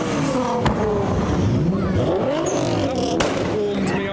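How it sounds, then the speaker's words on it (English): A Nissan GTR revs hard inside an underground building at a car roll-out event, its engine roaring loudly with sharp flame pops that echo off the walls amid crowd noise. "GTR's just popped a big flame echoing inside the building."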